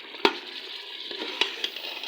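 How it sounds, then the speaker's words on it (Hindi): Boiled dal being roasted and stirred in a pan, a steady soft sizzle with a few sharp scrapes of the spoon against the metal, close and moderately quiet. "तो अब मैं इसको 2 या 3 मिनट भूनूँगी"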